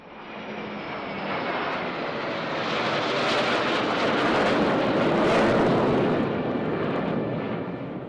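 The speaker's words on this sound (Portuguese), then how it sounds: "Seguiu-se a habitual e espetacular passagem dos aviões militares nos céus de Paris." Military aircraft roar overhead in a flypast above Paris, the deep engine rumble swelling from a distance to a loud peak and then easing slightly as the jets pass, with no talk.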